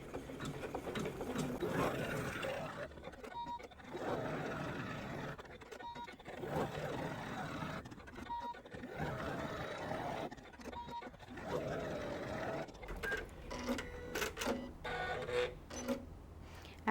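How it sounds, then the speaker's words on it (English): A sewing machine stitches a dark blue butterfly wing detail on a tool pouch, its needle chattering in rapid mechanical bursts separated by short pauses, fairly quiet and close. "I've now threaded in a dark blue and it's going to sew the wing detail."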